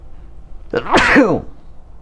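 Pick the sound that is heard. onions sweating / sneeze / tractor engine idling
sneeze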